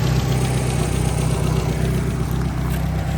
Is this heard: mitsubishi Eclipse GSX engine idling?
yes